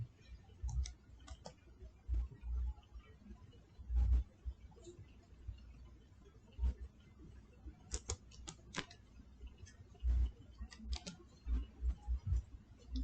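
Computer keyboard typing in short bursts of close, crisp key clicks with pauses between, fairly quiet and alone.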